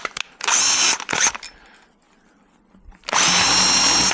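A power drill whines loudly in two short bursts as the bit drills metal, then stops briefly before a longer, steady burst of drilling starts up again.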